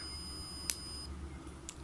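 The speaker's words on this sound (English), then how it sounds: "And when I let the push button go, it will give the warning sound." Piezo buzzer on an Arduino push-button project sounds a warning, a short sharp electronic beep with a second fainter beep near the end, over low steady background hum.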